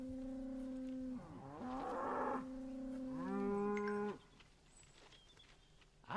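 Cows in the Thomas & Friends: Wonders of Sodor video game let out several long, loud, low moos that overlap and drift in pitch, with no talk over them.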